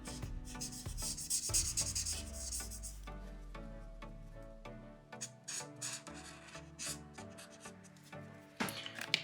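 A purple marker colours in a cake drawing on paper with soft rubbing strokes, quiet and close, over a background of music.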